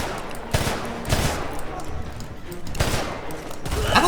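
Machine gun fire in the Homefront video game, rapid bursts of gunfire in repeated loud volleys with short gaps between them.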